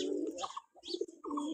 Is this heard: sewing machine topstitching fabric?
no